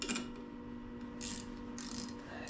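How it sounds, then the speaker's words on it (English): A 10mm ratcheting wrench works a bolt off the back of a brake on a 1975 Schwinn bicycle, giving bursts of quick, close ratchet clicking over a quiet background. "take this ratcheting 10mm, which is nice to have, and take this bolt off for the back of the brake"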